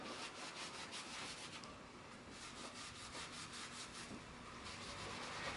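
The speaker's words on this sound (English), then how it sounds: "I'm going to wipe off the excess glue with a damp cloth" A damp cloth wipes excess wood glue off a freshly clamped wooden mantle cover, giving a soft, continuous, close rubbing swish with faint strokes and no voices.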